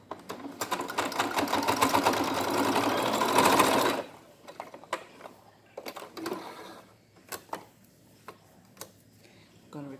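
A sewing machine runs steadily for about four seconds, stitching a fabric face mask seam, then stops; a few ticks, knocks and fabric rustles follow close by.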